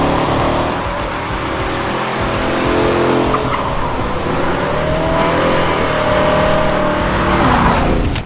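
A 1968 Dodge Charger nicknamed Mr. Angry, big-block V8, roars through burnouts with sustained loud tire squeal over a revving engine, close and continuous.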